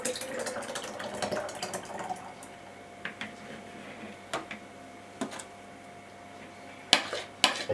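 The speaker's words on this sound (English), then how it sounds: "I pour that back into that jar for the second fermentation process." Kefir milk poured from a bowl back into a jar for second fermentation: a soft liquid trickle and pour early on, followed by scattered clinks and taps of glass and utensils in a quiet kitchen.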